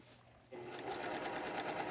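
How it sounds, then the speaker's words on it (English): A sewing machine stitching bias tape onto a dress neckline starts after a brief quiet moment, then runs as a steady, fast, close mechanical whir with rapid needle ticks and no talking. "I'm just gonna stitch this for a second so you can see what it looks like."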